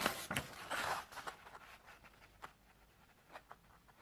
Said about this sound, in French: On va découper le carré.